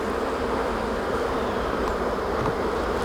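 A dense, continuous buzz of many honeybees fills an opened hive after a swarm, steady and close with no voices.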